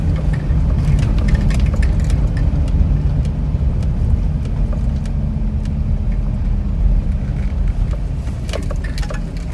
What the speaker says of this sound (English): there's a freaking truck getting unloaded